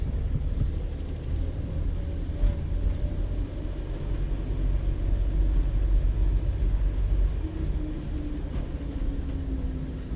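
A car's engine holds a low, steady rumble that rises slightly as the driver gives it gas, a continuous drone with no voices over it.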